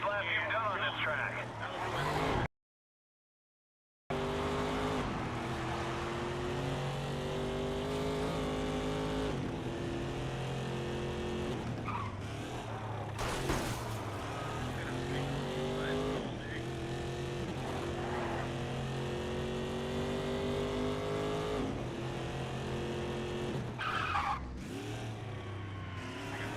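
A race car in a racing video game roars through a lap with sustained engine drone, shifting revs and tire skids, while a voice talks over much of it, broken by a brief silent gap early on.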